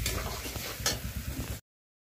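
Red lentils stir-fry in a tablespoon of oil, a dense, close sizzle with scraping stirs for under two seconds before cutting to silence.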